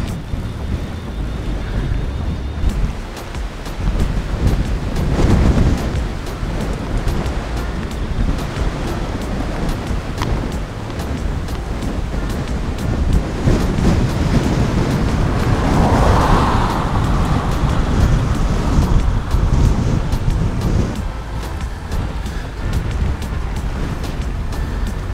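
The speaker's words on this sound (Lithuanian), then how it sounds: "Jei manęs vėjas nenupūs." Strong gusting wind roaring over the microphone outdoors beside a fuel station, a loud continuous broadband rush that swells and buffets throughout with no voices.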